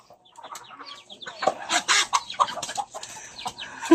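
Several chickens clucking close by in a Batangas province yard, irregular bursts of squawks and clucks growing busier and louder as a chicken is chased, with a rooster-like call near the end.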